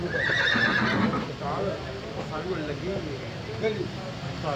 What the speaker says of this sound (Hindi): अभी ये घोड़ा चेक करवाएंगे, ये घोड़ी है